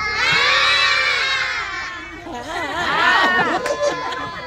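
A group of children shouting loudly and together in a long sustained cry, rising and falling, with crowd-like cheering.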